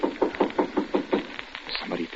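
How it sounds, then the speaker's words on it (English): Rapid knocking on a door from a suspense radio drama, a quick series of about eight sharp raps followed by a pause and a few softer knocks, fairly close and clear. "Somebody at the door."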